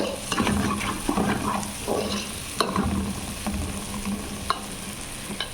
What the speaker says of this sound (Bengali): এই যে চিকেন চাপ হচ্ছে পেঁয়াজ ভাজতেছি এখানে।